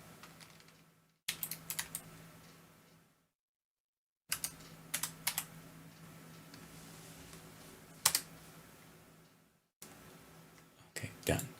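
Typing on a computer keyboard comes in quick clattering bursts of keystrokes close up, with brief pauses and near-silent gaps between runs, and a faint steady hum underneath.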